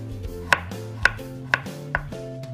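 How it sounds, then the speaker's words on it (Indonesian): A knife slices shallots and garlic on a cutting board, five crisp, evenly spaced chops about half a second apart, close and clear with no talk. "Kemudian kita akan iris halus bawang merah dan bawang putih, iris tipis maksudnya."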